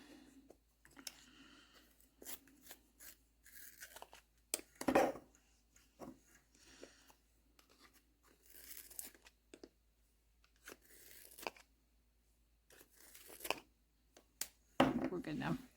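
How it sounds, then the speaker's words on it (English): A colour pencil is sharpened in short, scratchy bursts of grinding and shaving, irregular and close by, with quiet pauses between, while a person talks intermittently. "I got to sharpen my pencil again."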